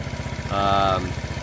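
A TaoTao 50cc Chinese scooter with a fault idles high, its small engine putting out a fast, steady pulsing chug, close by, with a brief tonal whine rising over it midway.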